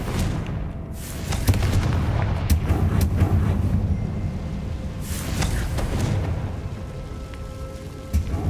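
Fiery Confringo spell blasts from a Harry Potter wizarding game boom repeatedly over a rumbling, rain-like crackle of debris, heavy and close, with sharp crackling bursts scattered through the continuous roar and no speech.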